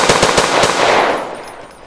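Automatic gunfire in Garry's Mod: a fast, loud burst of about eight close shots over the first second, then a ringing echo that fades out.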